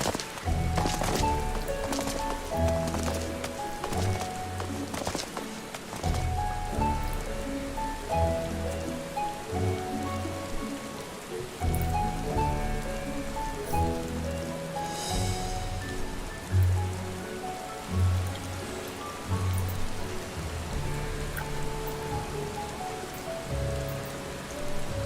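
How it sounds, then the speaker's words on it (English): Steady rain falls in the Final Fantasy 14 Endwalker game world, a continuous patter on surfaces mixed with in-game music and occasional soft thuds, with no talking. "Yes, Rain."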